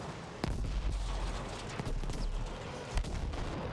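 Battlefield V World War II combat with explosions and gunfire: two sharp blasts stand out over a constant rumbling din of battle noise, with no talking.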